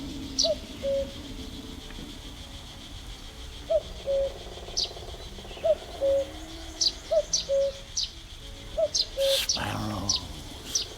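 A cuckoo in a hunting video game repeats its two-note call about every one to two seconds, clear and moderately loud over a soft outdoor ambience, with faint high chirps from other birds scattered around it.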